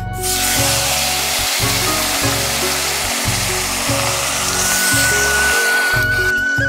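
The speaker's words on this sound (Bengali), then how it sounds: "আর দুটো মাছ আছে, আমি ভেজে নিচ্ছি।" Fish fry in hot oil in a pan, a steady broadband sizzle and spatter filling the whole stretch, loud and close, over a regular low rhythmic hum.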